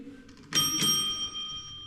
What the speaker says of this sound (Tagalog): Yung doorbell niya.